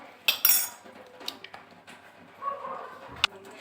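An egg mixed into a chicken marinade of yogurt, black pepper and cumin in a bowl, with close, scattered clinks and scrapes of a utensil against the bowl, quiet between the knocks.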